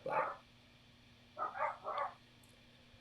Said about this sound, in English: I don't know if you hear my dogs in the background.